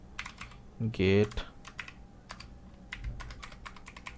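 Computer keyboard typing while Python code is written, a run of light, irregular key clicks with a brief louder burst near the start, close and fairly quiet, with a word briefly spoken.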